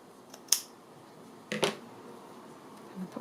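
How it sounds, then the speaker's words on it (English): Scissors snipping through paper while trimming the top edge of a piece for a boho-style decorated journal, a few quiet, separate cuts at close range with no talk. "Just going to trim this off at the top here."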